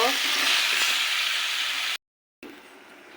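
Vegetables sauté in a pan with pumpkin vadi, giving a loud, dense hissing sizzle that cuts out abruptly to silence, then returns quieter for the final second.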